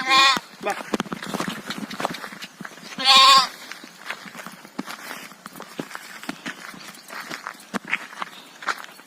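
Goats on a farm bleat now and then, with one loud, clear bleat standing out amid scattered rustling and movement noises. Footsteps and clopping can be heard nearby, and people talk over the scene.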